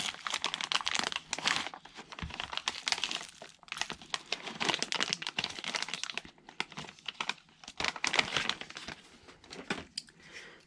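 Plastic packaging around an airsoft magazine adapter crinkles and tears up close in irregular bursts, crisp rustling and crackling with short pauses between handfuls.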